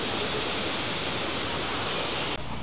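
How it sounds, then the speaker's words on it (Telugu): Valara waterfall in the Munnar reserve forest, Kerala, roars as a steady broadband rush of falling water, loud and continuous, with a slight drop in level near the end. "ఇక్కడ ఇంకో వాటర్ఫాల్ ఉంది దాని పేరు వచ్చేసి వలరా అంట"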